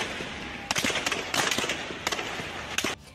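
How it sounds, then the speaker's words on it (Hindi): Several sharp bangs and crackling bursts ring out in irregular clusters, loud and echoing, with no voices, explosions during a street clash in Lahore with tear gas shells fired. "धमाकों की आवाज से पूरा इलाका गूंज उठा।"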